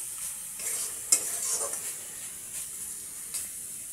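Samosa filling being fried and stirred in a pan, a steady close sizzle broken by scraping spatula strokes, with a sharper clank near the middle and a few more scrapes later, and no voices.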